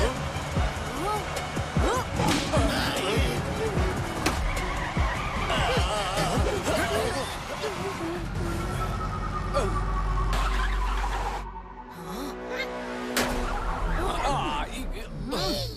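A cartoon jeep races and skids in a chase, tires squealing and engine roaring under excited shouting voices, with a long sliding screech and a sudden crash-like burst near the end.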